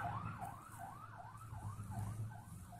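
Fire truck and ambulance sirens in Fayetteville wail past at a distance, a rapid rising-and-falling yelp over a low engine rumble, fairly faint and steady.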